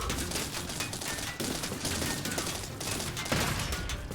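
Rapid cannon fire in the TerraTech vehicle-building game, a dense continuous barrage of overlapping bangs and mechanical clatter, loud and close throughout with no talking.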